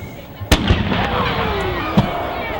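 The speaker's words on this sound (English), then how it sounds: "That was a loud cannon." A loud cannon booms at a high school football game. Two sharp blasts go off about a second and a half apart, and each echoes across the open field over crowd and announcer chatter.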